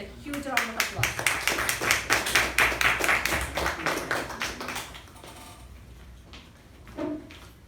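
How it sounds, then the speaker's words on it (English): A small audience at a club meeting claps as a speaker comes to the lectern, distinct close claps in a fairly quick rhythm that thin out and stop after about five seconds, followed by a brief sound. "Please welcome her to the lectern with a huge round of applause"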